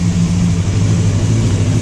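A motorcycle engine idles roughly on full choke, a steady, loud, close rumble with an uneven low throb and no voices over it.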